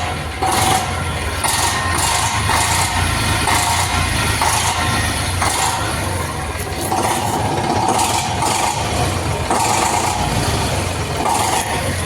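An Eicher 485 tractor diesel engine runs at a steady, loud idle close by, its low rumble holding an even pulse throughout with no pause or change.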